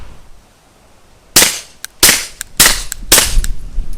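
A SIG P365 pistol fires through an ERECT9R suppressor fitted with five baffles: four sharp, close reports about half a second apart, each with a short crack and quick decay.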